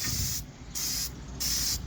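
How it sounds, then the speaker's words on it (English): An aerosol spray can hisses in three short bursts with brief pauses between, close and steady, used to paint a gas pipe handrail. "Start spraying off your piece and continue past your piece, then stop spraying."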